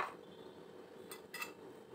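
Hot corn chaat being transferred into a small bowl: faint clinks of a utensil against the dish, two brief metallic taps in a quiet kitchen.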